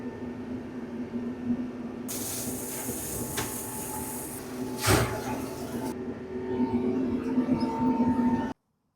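A tractor-driven flail mower runs continuously at some distance, a steady mechanical drone with a broad hissing rush of cut vegetation swelling and fading, then the sound cuts off abruptly.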